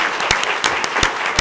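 Round of applause at a school board meeting for a student athlete who set a school hurdles record: close, individual sharp claps in a quick irregular rhythm over a fuller crowd clapping.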